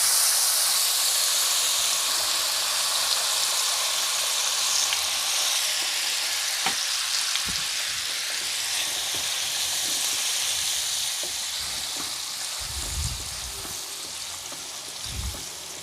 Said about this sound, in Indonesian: Yuk langsung aja kita tumis bumbunya